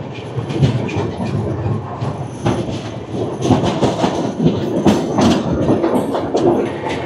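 The NJP-Howrah Shatabdi Express, heard from inside a Vistadome coach, runs through Rampurhat station without stopping, with a loud, continuous rumble, rhythmic clickety-clack of the wheels over rail joints and faint wheel squeal.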